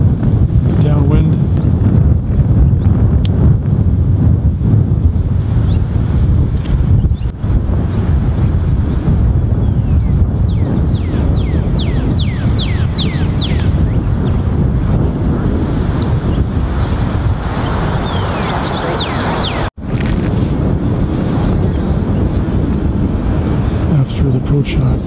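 Strong gale-force wind roars across a golf course during a tournament round, a constant loud buffeting rush over the microphone that carries for about twenty-five seconds with a brief dropout near the end.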